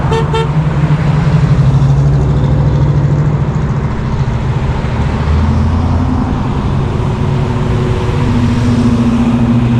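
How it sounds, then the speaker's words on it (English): A line of Pontiac Firebirds and other cars and trucks rumbles past close by, engines droning steadily, with a short horn toot at the very start. "Check out all these cool cars that are in this convoy"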